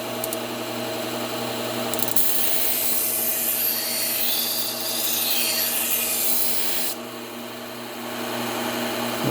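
A Scotch-Brite wheel deburrs freshly sharpened kitchen knives, giving a close, steady rubbing hiss over a motor hum that swells as the blade is drawn across and then drops off near the end.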